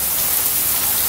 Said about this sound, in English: Now it's heavy rain.